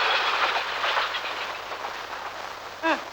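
A train rolls past in a Tamil film scene, a steady, loud rumbling rush of wheels with a short metallic squeal near the end.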